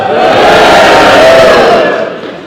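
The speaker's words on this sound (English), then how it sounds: "You need to boo louder." A large crowd at a cosplay contest boos loudly in one sustained, swelling roar that fades off toward the end.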